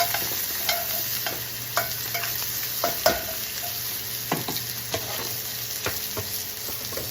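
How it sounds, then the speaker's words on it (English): Butter with rosemary sprigs melting in a pan, giving a constant bright sizzle with occasional soft scrapes and taps from a utensil, close and fairly loud with no talking. "let this butter melt"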